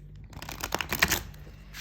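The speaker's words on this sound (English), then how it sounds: "let me show you how it shuffles" A 36-card oracle deck with gilded edges being shuffled, giving a run of quick papery riffles and flicks up close, fairly loud and continuous for under two seconds with no talking.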